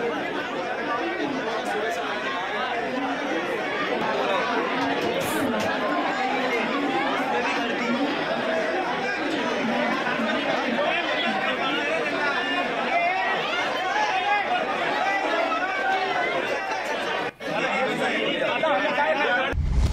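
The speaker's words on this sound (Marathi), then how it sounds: "एकंदरीतच हे दृश्य आपण पाहतोय जेव्हा बदलापूर स्थानकावरती गोंधळाचं वातावरण निर्माण झालं होतं" Dense crowd chatter fills a Badlapur railway station as commuters pile up after a 40-minute local train delay, a loud, continuous babble of many voices with no break throughout.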